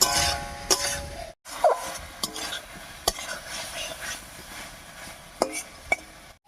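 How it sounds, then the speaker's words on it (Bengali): Prawns are stir-fried with spice paste in a pan, a soft sizzle under intermittent sharp scrapes and clinks of a spatula, fairly quiet and close. "এই সময় উনুনে আস্তা বাড়িয়ে মশলার সঙ্গে চিংড়ি মাছটাকে খুব ভালো করে কষিয়ে নেব"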